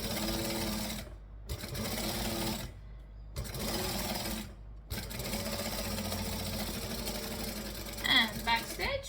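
Sewing machine stitching and back stitching a strap, a steady close mechanical whir broken by three brief pauses as direction changes, with a voice talking over parts of it.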